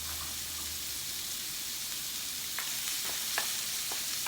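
Ingredients browning in a hot pan for fried rice, a steady soft hiss with a few faint clicks of a utensil near the end, quiet and unbroken.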